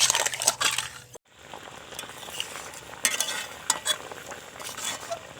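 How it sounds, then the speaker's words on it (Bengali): Pumpkin murabba sugar syrup being stirred nonstop in a wok over the stove, with a continuous soft scraping and bubbling texture, a brief gap near the start, then steady close stirring with occasional light clinks. "আর অনবরত নাড়তে নাড়তে সম্পূর্ণ রসটাকে শুকনো করে নেব।"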